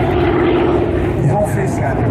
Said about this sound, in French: ils ont fait cet étrange avion